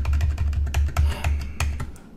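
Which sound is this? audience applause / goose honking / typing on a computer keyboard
typing on a computer keyboard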